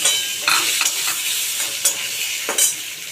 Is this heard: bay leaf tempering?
yes